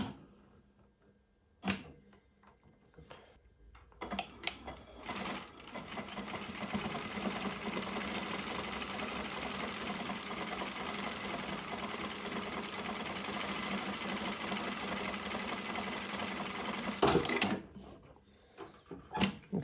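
A Prosew PS-1985 industrial sewing machine runs a decorative stitch pattern in one long, steady mechanical whir of about twelve seconds, with faint clicks before and after.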